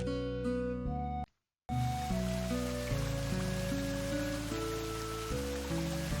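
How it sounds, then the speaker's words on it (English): Gentle waterfall water rushes as a steady wash of noise under tuneful game music in the video game Evoland, continuous apart from a brief silent gap early on. "that beautiful waterfall."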